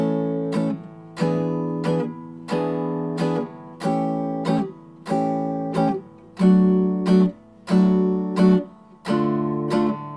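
A stringed instrument plays a slow run of higher notes from a fingering diagram, eight bowed tones of even length and moderate loudness, each clearly separated and heard alone.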